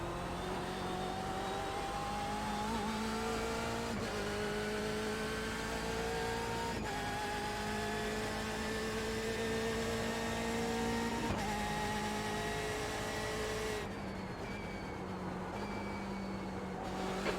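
Race car engine in the iRacing sim, drifting at sunset, holds a steady high drone with shifting harmonics, briefly dipping at each gear change and dropping off near the end, continuous and close.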